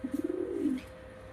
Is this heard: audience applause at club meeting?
no